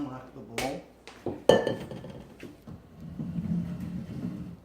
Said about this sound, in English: I'm going to unlock the bowl